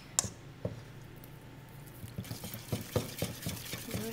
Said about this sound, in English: go ahead and just stir it all in here